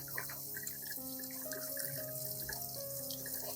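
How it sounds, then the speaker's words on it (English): Tap water runs steadily over lettuce greens being gently rinsed under a faucet, a soft continuous splash with faint drips and a low hum beneath, close and alone. "rinse the greens under running water"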